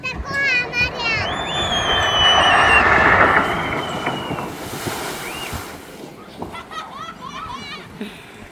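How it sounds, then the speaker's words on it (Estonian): Water splashes and rushes at a water park attraction, with children shrieking and people talking over a steady wash of spray and wind. "Siin pritsita, te saate kohe marjad."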